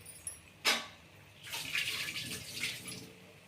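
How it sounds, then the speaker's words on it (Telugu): Rice poured into a pot of boiling water for biryani makes a quiet, close watery rush and swish with a brief splash at the start. "వాటర్ అయితే బాయిల్ అయిపోయాయండి బిర్యానీకి."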